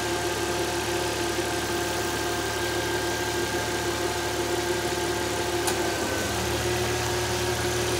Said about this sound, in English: That sound you heard was the compressor just engaging.